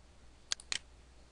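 A computer mouse gives a couple of quick, faint clicks close by in a quiet room, with no talking.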